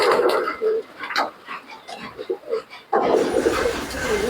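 Pigeons, including Teddy-type birds, give soft, short coos in a loose, broken series at close range, with some rustling and a louder burst of noise toward the end.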